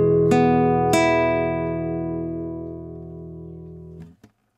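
An acoustic guitar recording with the lows cut by EQ around 200 Hz: two strummed chords ring out and slowly decay, followed by a couple of faint string clicks at the end.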